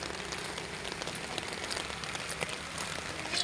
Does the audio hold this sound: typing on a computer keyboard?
no